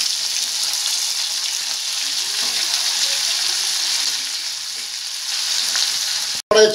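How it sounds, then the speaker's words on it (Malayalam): Chicken frying in a pan over full flame, a steady broadband sizzle that holds loud and even throughout, ending in a brief clatter, with no talking. "നമ്മൾ ഫുൾ ഫ്ലെയിമിൽ തന്നെ നമുക്കിത് ചിക്കൻ നല്ലതായിട്ട് ഫ്രൈ ആക്കി"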